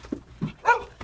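A dog gives a few short barks and yips with a whimpering edge, brief separate bursts close by in a quiet indoor setting.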